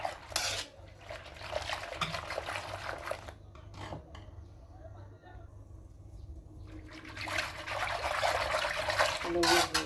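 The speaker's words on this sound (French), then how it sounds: "Alors, avec mon fouet, je vais mélanger." A whisk mixing a homemade yogurt mixture in a bowl clinks and scrapes steadily against the sides. The clatter runs close and busy through most of the stretch and thins briefly in the middle.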